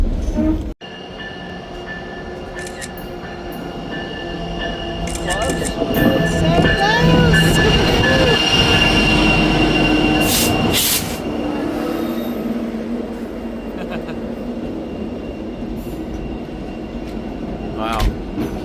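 A White Pass & Yukon Route train out of Skagway, Alaska rumbles along the rails close by, wheels squealing and grinding as it moves, with a voice speaking over the noise at times.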